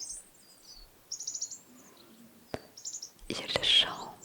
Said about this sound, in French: Tu entends également le chant des oiseaux